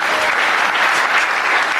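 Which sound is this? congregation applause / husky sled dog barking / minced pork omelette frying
congregation applause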